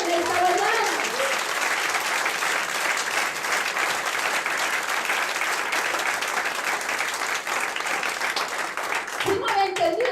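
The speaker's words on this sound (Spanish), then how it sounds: "Alguien que aplauda el nombre del Señor en esta mañana." A church congregation claps and applauds loudly and continuously for several seconds, a dense wash of hands, while a voice is heard briefly at the start and again near the end.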